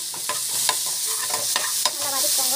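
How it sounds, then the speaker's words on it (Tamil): Ginger paste sautés in hot oil with onion and mustard seeds, a steady close sizzle broken by a few sharp spoon scrapes and stirring clicks. "இஞ்சி போட்டு நல்லா வதக்கிக்கோங்க."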